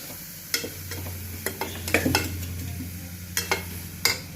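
Spice paste frying in oil with repeated stirring for a Telugu curry, sharp scrapes and knocks of a spoon in the pan over a soft sizzle and a low steady hum.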